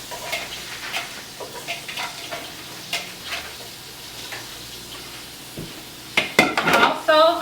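Tofu tossed into a hot pot for tofu parmigiana, giving a steady background sizzle broken by repeated scraping and stirring clicks, with a louder clatter of pot and utensil near the end.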